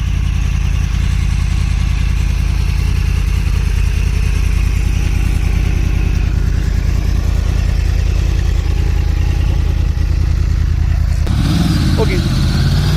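A 2014 cross-plane-engine BMW S1000RR superbike runs close by with a loud, steady, low engine rumble that fills the whole stretch, shifting slightly near the end.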